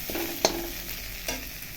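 Dhenki greens being fried and stirred in a hot wok, a soft steady sizzle punctuated by two sharp metallic scrapes of the spatula, close by.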